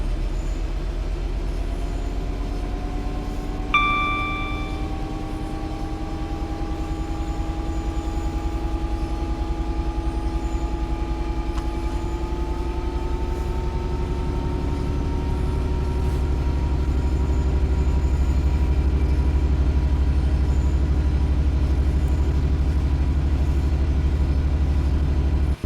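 A DB Cargo Class 66 diesel locomotive hauls a freight train past, giving a sustained loud low rumble with rising and falling engine tones. A brief horn-like toot sounds near the start.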